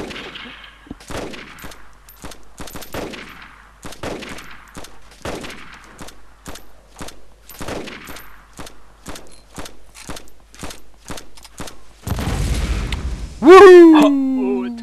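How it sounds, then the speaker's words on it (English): Gunfire in the video game DayZ as two fully geared players shoot at a gas station, a rapid series of sharp repeated shots at an uneven rhythm, followed by a loud rumbling boom and a voice near the end. "2 fully geared players are just stood shooting at a gas station"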